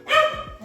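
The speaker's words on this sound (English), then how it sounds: "excuse my dog" A single short bark from a dog indoors, close and fairly loud, with a tonal yelp that trails off.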